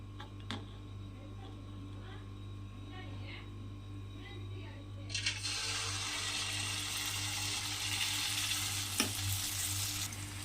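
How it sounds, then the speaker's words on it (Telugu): Sweet poornam boorelu dumplings are dropped one at a time into hot oil and sizzle, with the frying swelling into a loud, steady crackle partway through while someone talks. "ఒక్కొక్క పూర్ణము వేడెక్కిన ఆయిల్లో వేసుకుందాము"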